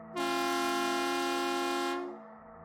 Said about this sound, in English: John Khang heard the loud honking before he saw it.